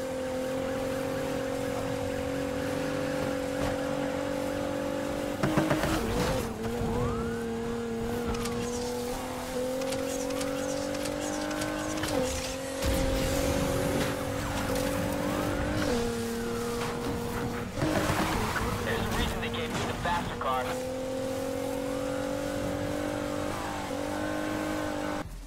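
Roaring car engines in an NFS Heat police pursuit, with a steady drone of revving motors, wailing sirens sweeping up and down, and repeated sharp crashes and impacts over about 25 seconds.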